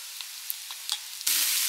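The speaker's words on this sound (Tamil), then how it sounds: "தூளெல்லாம் வந்து ரோஸ்ட் ஆகட்டும்." Pepper powder roasting in a pan with chicken masala, a steady close sizzle with a few light stirring taps, swelling into a louder hiss near the end.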